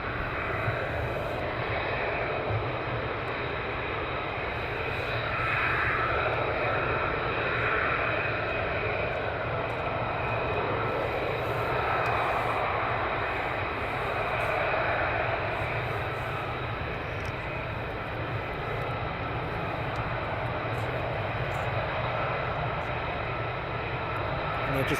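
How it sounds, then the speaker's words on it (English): F-35 fighter jets at RAF Lakenheath produce a steady, loud, continuous engine roar that holds without letup, heard from the airfield perimeter. "There's your F-35s"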